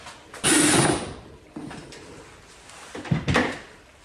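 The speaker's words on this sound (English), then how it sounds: "So let's get this drilled for this one" A drill bores a hole in a portable water pump build in short bursts of whirring, grinding noise, one long burst followed by briefer, quieter pulses, with no talking.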